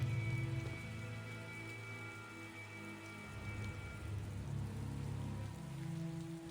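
Steady rain falls in the video game Tales of Xillia, a dense, even patter with a low rumbling bed beneath it and no voices.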